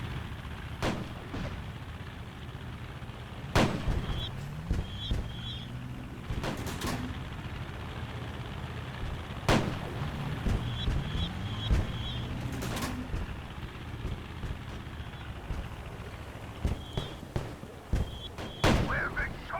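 Video-game gunfire from blind firing, sharp isolated shots and short bursts cracking out at irregular intervals over a steady ambient bed with faint bird-like coos in the background.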